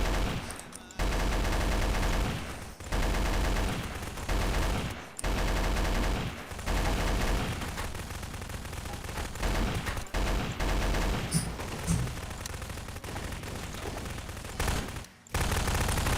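Gunfire in the Garry's Mod Flood game mode, loud rapid bursts of automatic shots repeating in long runs with short gaps, heard close up.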